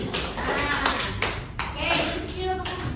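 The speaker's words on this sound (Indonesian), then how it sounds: "ketika saya mengatakan angka 1, kalian bertepuk seperti ini" A class of children claps hands together in rhythmic bursts, several sharp broadband claps spread across a few seconds, with children's voices chattering underneath.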